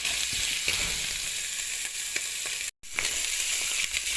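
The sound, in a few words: pork frying in a pan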